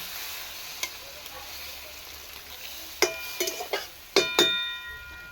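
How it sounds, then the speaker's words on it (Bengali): A splash of water hits a hot pan of flattened rice (chira) and semolina, setting off a quiet steady hiss. Sharp metallic clinks and sputters burst out near the middle and again toward the end. "সামান্য জল দিচ্ছি"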